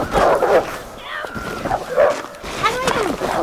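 A dog attacks in The Long Dark, a wilderness survival game, with loud yips, whimpers and snarls repeating over about three seconds, mixed with a person shouting at the same time.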